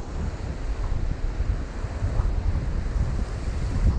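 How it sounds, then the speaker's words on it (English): Strong wind buffets the microphone over the steady wash of surf at Long Beach, Washington, a constant roaring rush with no voices. "It's getting really windy though."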